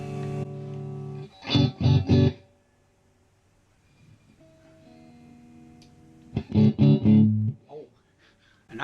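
A clean electric guitar runs through the reverb of a PRS Blistertone 50 amp, playing two short bursts of strummed chords. Each burst is followed by a long, fading reverb tail, with near silence between the bursts.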